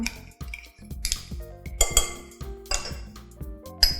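Butter, egg yolk and sweetened condensed milk being whisked in a bowl for Thai milk butter bread, with sharp clinking and tapping of the whisk against the bowl in irregular bursts, close and fairly loud, no talk.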